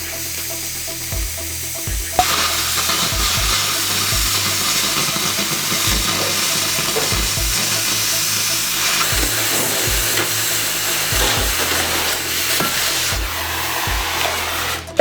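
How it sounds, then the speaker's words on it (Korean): A steel H-beam is cut for building reinforcement, giving a loud, continuous hissing, grinding roar. Low thumps and clanks recur irregularly underneath, and no one speaks. "제일 처음 시공될 부분에 H빔을 재단해줍니다"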